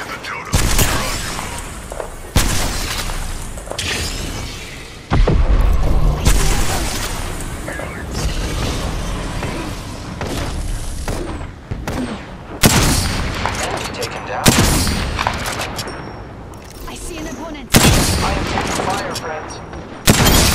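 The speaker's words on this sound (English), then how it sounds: "The enemies are shooting at me." Bursts of automatic gunfire from enemy squads in the battle royale shooter Apex Legends, loud, close volleys and rapid rattles repeating across the stretch with brief gaps, layered over game effects and booms.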